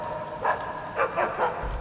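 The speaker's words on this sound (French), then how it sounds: "Ah ouais, mais il y a le chien-chien." A dog in the video game Assassin's Creed Chronicles: China lets out three or four short, moderately loud barks in an uneven rhythm over faint game ambience.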